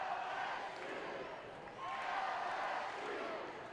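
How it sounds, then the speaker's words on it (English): A baseball crowd at an LSU Tigers game on its feet in the 9th inning, a broad, distant roar of cheering that swells and sustains, under a radio announcer's commentary. "Crowd on their feet making noise now for the first time tonight."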